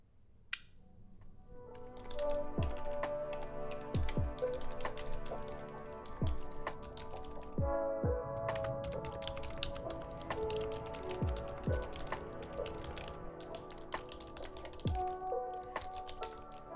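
Steady typing on a computer keyboard during a writing sprint, with close, continuous key clicks and taps and a few heavier strikes spread throughout.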